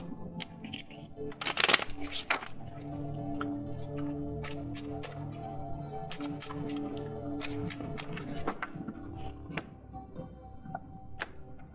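An oracle card deck being shuffled by hand, with a burst of riffling near the start followed by a string of light, crisp card snaps and taps spread unevenly over a soft background hum.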